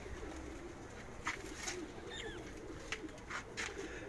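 A pigeon in a loft coos softly in a few low, rolling calls, faint against a steady background hum, with scattered brief sounds between the calls.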